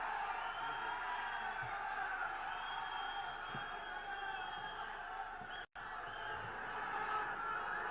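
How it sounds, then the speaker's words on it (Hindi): A large open-air political rally crowd cheers and roars steadily for the arriving chief minister, a dense, continuous wash of voices with scattered whoops, broken only by a sudden instant of silence. "तालियों की जोरदार गड़गड़ाहट के साथ में मुख्यमंत्री जी का स्वागत करें"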